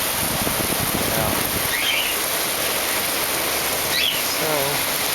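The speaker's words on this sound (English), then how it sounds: "We don't get too much heavy rain like this." Heavy rain falling in San Francisco, a thick, steady hiss of drops pouring onto surfaces nearby, constant throughout with only faint brief sounds poking through.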